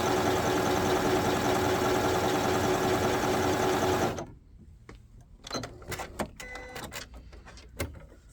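A small demonstration sewing machine stitches at stitch length 2 in a steady, close four-second run, then stops, followed by light clicks and handling sounds.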